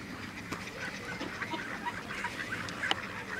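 Ducks and geese quack and honk continuously at a castle moat, a busy, overlapping flock chorus of nasal calls at moderate distance with no talk.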